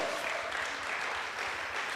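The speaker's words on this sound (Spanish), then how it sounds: "Dale un fuerte aplauso al Señor." A church congregation claps together, a soft, even spread of many hands at moderate distance, continuing without a break for the whole two seconds.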